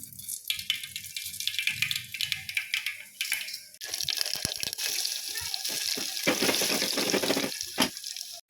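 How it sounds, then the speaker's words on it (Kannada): Mustard seeds fry in hot oil in a home kitchen pan, giving a dense, continuous sizzling crackle close by that swells louder partway through, with no talk. "ಸ್ವಲ್ಪ ಸಾಸಿವೆ ಹಾಕ್ತಿದ್ದೀನಿ."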